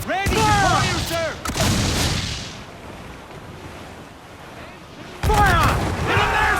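Ship cannons fire in the naval combat of Assassin's Creed IV Black Flag: loud booming blasts with a long rumbling tail, set against a wind and sea wash, while crew members shout over it.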